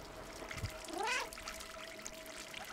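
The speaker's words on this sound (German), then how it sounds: "Die Katze hat von allein miaut." A cat in the video game Stray gives a single rising meow, a short clear cry in the middle of a quiet backdrop with a steady faint tone and low hiss, with no one talking.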